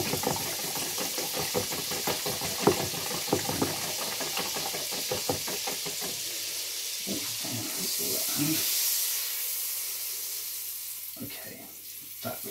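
Beaten eggs cook in a hot buttered pan with seasoning, a steady close sizzle and hiss under a run of quick knocking taps, then softer clatter as the frying carries on.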